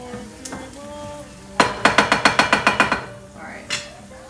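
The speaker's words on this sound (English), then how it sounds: "I'm gonna give this another stir, another little stir" Penne con salmone stirred in a pan, a quick run of about ten sharp, evenly spaced scraping knocks of a utensil against the pan, close and fairly loud, between quieter stretches of light kitchen clatter.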